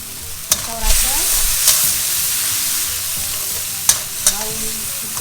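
A yellow pickle of cucumber with vinegar, sugar, salt and turmeric is stirred in a hot wok, the spatula scraping in a few sharp strokes over a steady sizzle.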